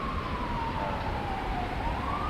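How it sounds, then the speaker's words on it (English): A wailing siren, such as from an emergency vehicle, sounds in the background over steady road or traffic noise, its pitch sliding slowly down and then back up. "People are saying background noise and sirens"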